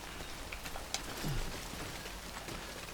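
Steady hiss of rainfall in the Death Stranding video game during a hike through a ruined landscape, constant and fairly quiet, with faint brief knocks and no talk.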